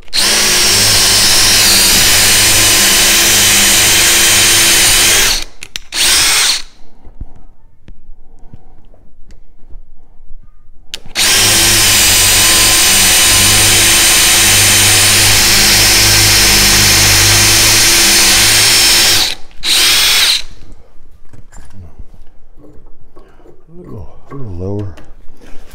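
A DeWalt compact drill driver bores into soft pine in two long, loud bursts of steady whirring, each cutting off abruptly, with quiet pauses between and faint handling noise afterward.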